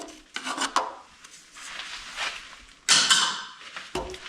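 Wood lathe with a gouge cutting a tenon on a turned vase blank: intermittent scraping, rasping cuts in short bursts separated by brief pauses, close by.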